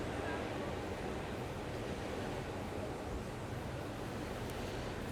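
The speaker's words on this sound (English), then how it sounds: "Resting here, hearing the waves crash around." Ocean waves washing in steadily behind a calm outdoor yoga session, a broad, continuous surf rush with wind noise and no distinct breaks or voices.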